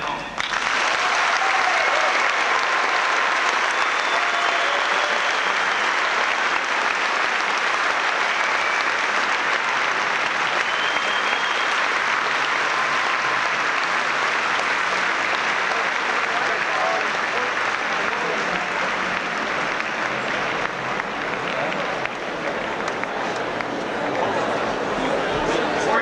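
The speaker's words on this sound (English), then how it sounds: "please extend a warm round of applause to send President Carter on his journey back home" A large audience at an ice rink at RIT gives President Jimmy Carter a sustained round of applause, with dense clapping continuing unbroken for nearly half a minute.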